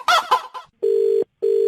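A short rooster-like crow sound effect plays on a radio prank show, followed by two steady electronic beeps separated by a brief gap.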